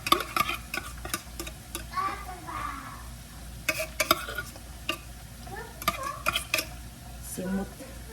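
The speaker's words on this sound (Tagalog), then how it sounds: "Ilagay na natin yung corned beef." Corned beef frying in a pan with onions and garlic, sizzling steadily close by while a utensil scrapes and clacks against the pan in irregular bursts.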